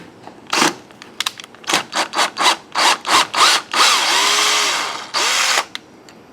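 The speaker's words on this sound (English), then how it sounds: "I'm going to try using the electric screwdriver to try to take it out." An electric screwdriver backs a stripped screw out of a door deadbolt, with a series of short whirring bursts followed by one longer steady run and a final brief burst, all close and loud.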